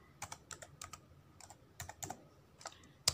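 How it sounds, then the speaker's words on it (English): Keys clack on a computer keyboard in a quiet room, a steady run of separate light taps and short bursts at close range, with no talking over them. "Now, you type some list. Okay. I will type parts of computer."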